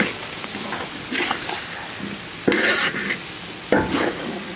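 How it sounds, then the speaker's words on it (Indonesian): Javanese sambal goreng with coconut milk stir-fried dry in a pan: a steady sizzle of frying, broken by several loud, scraping stirring strokes at irregular intervals, with no one speaking. "Kita goreng kering saja."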